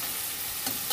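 Garlic and green chili paste sautés in a pan, producing a brief, close, steady sizzle with a light stirring scrape.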